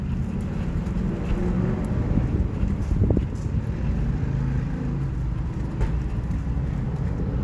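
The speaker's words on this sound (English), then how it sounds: "Goddamn wind." Steady outdoor wind buffeting a microphone, a continuous low rumbling roar that holds at the same loudness throughout with no voices.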